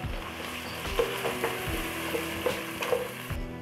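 Garlic and onion paste frying in a pan while being stirred, a soft, low sizzle with light spoon scrapes and taps at a close distance, no voices.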